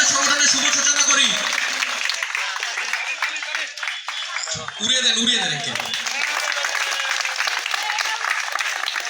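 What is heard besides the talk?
audience clapping at organisation's opening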